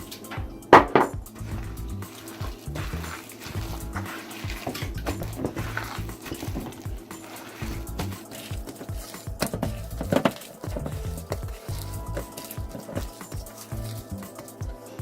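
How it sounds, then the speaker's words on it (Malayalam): A spoon stirs thick urad dal vada batter with chopped onion, ginger, curry leaves and green chillies in a bowl. The irregular scraping, squelching and occasional light clinks are fairly soft and go on at length without speech. "ഇതെല്ലാം കൂടി ഇട്ട് നന്നായി ഇളക്കി കൊടുക്കണം"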